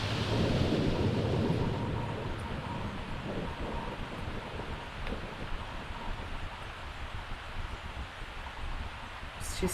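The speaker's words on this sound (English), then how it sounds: "She's still walking in the rain" Rain and thunder in the video game The Sims 3 form a steady hiss of falling rain. A loud rolling thunder rumble at the start fades into continuous rainfall with faint rustling.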